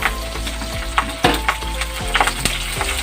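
Dried chilies, slit green chilies and a bay leaf hit hot oil for a Bengali khichuri, making a loud, steady sizzle punctuated by quick clatters and crackles as the spices are stirred.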